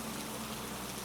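Steady rain falls evenly in a dense, soft wash with no pauses, close and fairly quiet throughout.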